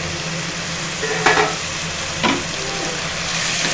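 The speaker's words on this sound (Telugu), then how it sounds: "మూత తీసి కలుపుకోవాలండి" A spoon stirs a green pea and tomato curry simmering on low heat once the lid comes off, giving two distinct scraping strokes over a constant loud sizzle, close by, with no talking.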